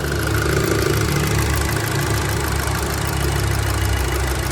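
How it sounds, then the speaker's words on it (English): Audi TT Mk2 with the 2.0 TFSI EA113 engine running close up, a loud steady engine drone with turbo whoosh and whine layered on top, continuous and unbroken. "Turbo noises."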